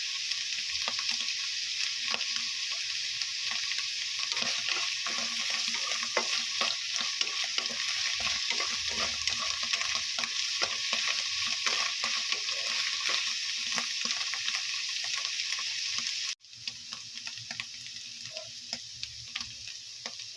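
Mushrooms fry in a hot pan with a steady close sizzle, broken by frequent scrapes and taps of a utensil stirring them, running unbroken and dipping slightly quieter near the end.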